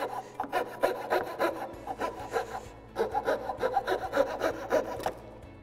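A hand saw cuts dovetails in wood with close, rasping back-and-forth strokes in uneven bursts, a short pause partway through before the sawing resumes, and no voices.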